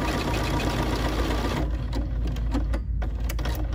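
A BERNINA 570, 590 or 790 sewing machine stitching a decorative tassel pattern, with a fast steady mechanical whir that turns into slower, separate clicks of the needle after about a second and a half.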